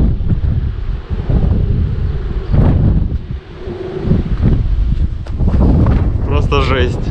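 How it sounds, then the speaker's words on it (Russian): Strong wind roars continuously against the microphone in Portugal, a loud buffeting rush with gusts, while a person talks over it. "я первый раз слышу, как шумит прям ветер"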